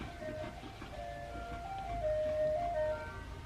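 The tinny melody of an ice cream truck jingle carries from a distance. Its thin tones play over steady outdoor background noise, faint rather than near.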